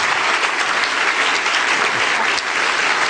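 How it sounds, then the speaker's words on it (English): Loud, dense standing-ovation applause from a large crowd at a speech by Aung San Suu Kyi at the Clinton Global Initiative in New York, sustained and even throughout with no voices standing out. "there is a standing ovation here in New York for you."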